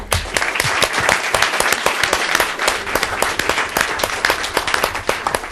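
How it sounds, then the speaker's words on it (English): Dense, steady applause from a conference audience at a U.S.-China private sector power cooperation event, loud and close, with many overlapping claps sustained throughout. "can we get more applause for these people?"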